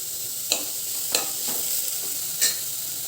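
Sweetcorn for soup being sautéed in a pan, with a soft steady sizzle and a few sharp scrapes of the spoon as it is stirred, no talk.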